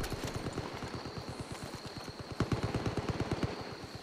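Rapid automatic gunfire in the video game Far Cry 5 rattles in a fast, steady stream of shots, moderately loud and sustained throughout.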